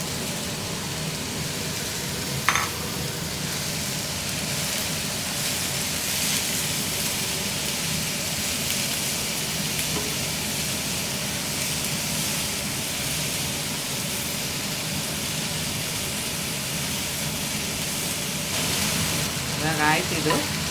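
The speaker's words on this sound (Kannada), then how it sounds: "ಇವಾಗ ಕೊತ್ತಂಬರಿ ಸೊಪ್ಪು ಪುದೀನ ಹಾಕೊಂಡು ಅದನ್ನು ಸ್ವಲ್ಪ ಫ್ರೈ ಮಾಡ್ಕೊತಾ ಇದ್ದೀನಿ" Coriander leaves and mint frying in a pan for chicken kheema saru, a steady broadband sizzle holding evenly throughout with a couple of brief spatula scrapes, close and moderately loud, with no talking.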